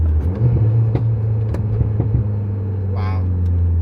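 Volkswagen Mk8 GTI engine, lowered on air suspension, dropping to second gear: a low steady engine drone with brief clicks and pops, ending in a short rising rev blip near the end.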